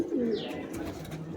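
A pigeon in a loft gives a low, soft coo close by, with a faint higher chirp and quiet background murmur.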